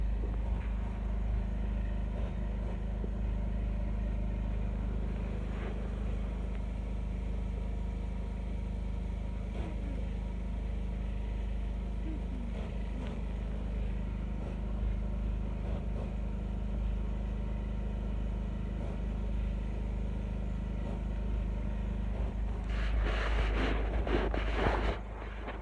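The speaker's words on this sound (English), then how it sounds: "That sound you hear is the generator." A generator runs steadily in the background, a continuous low rumbling drone with a broad hiss over it, heard from under a blanket and unchanging throughout aside from a brief rustle near the end.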